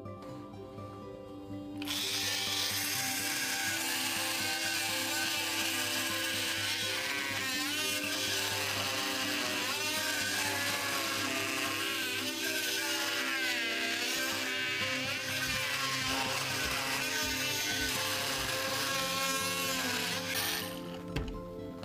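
A Fein 12V MultiTalent cordless oscillating tool cutting, a steady loud buzzing whine that starts abruptly and runs continuously for most of the clip, close up with no talking.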